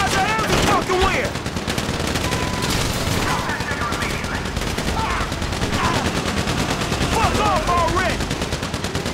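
A shootout in Grand Theft Auto V video game, with dense rapid gunfire and bursts of automatic fire continuing loud throughout while someone shouts over it.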